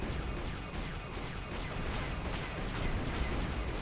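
A continuous, heavy barrage of turret fire roars during a space battle against Sith fighters in Knights of the Old Republic, a dense booming rumble with no distinct gaps.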